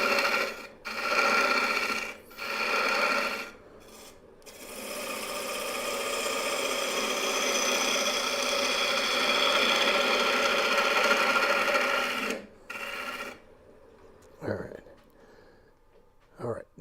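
A wood lathe turns a maple burl as a tenon is cut down, giving a sustained rasping, scraping whir that cuts in and out in short bursts before a long continuous cut, then falls away.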